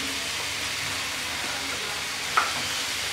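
Bottle gourd and egg fry in a pan with a steady, even sizzle, and a spatula stirs them. One brief scrape of the utensil stands out near the end.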